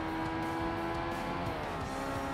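Race car engine revving and accelerating in the racing game Forza Motorsport, a continuous, dense, steady drone of engine harmonics with no talk over it.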